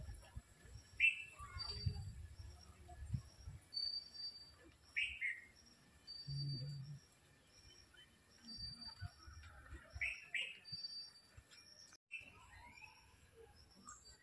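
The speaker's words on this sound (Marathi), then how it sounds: "निसर्गमय वातावरण आणि किती पक्ष्यांची आवाज हेच पाहिजे." Several birds chirp and call in an open natural outdoor setting, short bright tweets and whistles scattered irregularly over faint insect-like buzzing and low rustling, moderately distant.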